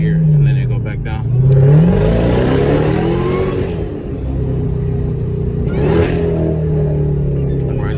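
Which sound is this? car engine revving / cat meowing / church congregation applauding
car engine revving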